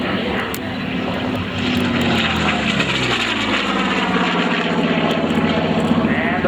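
WWII Corsair and Zero warplanes roar past at an air show battle reenactment, their propeller engines a loud, sustained drone that swells and shifts in pitch as they sweep overhead.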